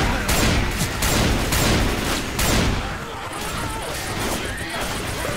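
Rapid gunfire in the zombie shooter Left 4 Dead 2, dense bursts of shots crackling loudly through the first three seconds, then a rougher, quieter stretch of combat noise with talk mixed in.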